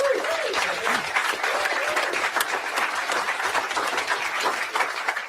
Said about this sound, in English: Some of the committee members also applauding that as well.